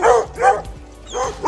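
An English foxhound barks three times in quick succession, close and loud, with short gaps between the barks.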